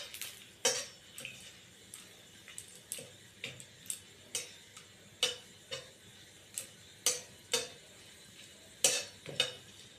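Whole cardamom pods and cloves fry in a pan while being stirred, giving a soft steady sizzle broken by about fifteen sharp spatula scrapes and taps against the metal at an uneven rhythm, close and fairly quiet, with no talking.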